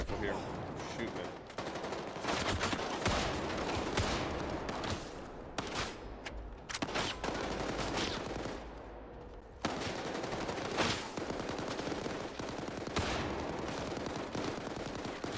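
Rifle gunfire in S.T.A.L.K.E.R. 2 rings out in repeated sharp bursts and single shots, loud and close, over a dense battle din, with a voice speaking at times.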